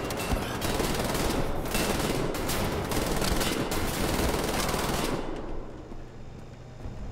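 Sustained rapid gunfire in the shooter Wolfenstein The New Order, loud dense bursts running for about five seconds before cutting off into a quieter background hum.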